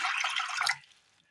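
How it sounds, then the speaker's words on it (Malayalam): Water pours into a clay pot on a stove for a Kerala mango curry, a short close splashing gush that cuts off after under a second and leaves faint dripping and quiet. "അടുപ്പത്തൊരു ചട്ടി വെച്ച് കൊടുത്തതിന് ശേഷം അതിലേക്ക് വെള്ളം ഒഴിക്കാം"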